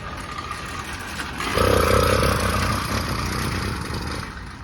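Small gasoline engine of a homemade motorized bicycle sputters, then catches for a few seconds, its loud, rough, clattering drone rising sharply before settling and slowly fading as it falters.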